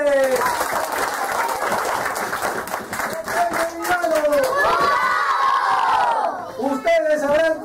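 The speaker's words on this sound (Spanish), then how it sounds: "Un fuerte aplauso para ustedes." An audience in a session claps and cheers loudly, with children shouting over dense, sustained applause and a voice rising through the noise.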